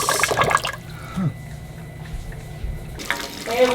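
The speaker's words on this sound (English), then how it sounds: "I'm not getting enough pressure over here on the kitchen sink." A kitchen sink faucet at an off-grid home runs with low pressure, giving a soft, uneven rush of water that starts strong, drops to a thin trickle in the middle, then surges again near the end.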